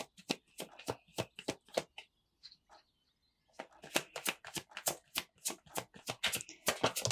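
Tarot cards shuffled and drawn by hand for a three-card reading, heard as rapid close riffling flicks and taps in two bursts separated by a brief quiet pause, with no talking.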